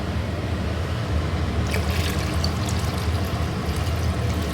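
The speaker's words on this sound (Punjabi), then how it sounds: "ਲਓ ਜੀ ਲੱਸੀ ਨੂੰ ਲੱਗ ਗਿਆ ਹੁਣ ਗੜਕਾ ਹੁਣ ਪਾਵਾਂਗੇ ਵਿੱਚ ਪਾਣੀ" Water is poured into lassi kadhi bubbling in a pan, a soft splashing pour that starts partway through over a low, steady background rumble.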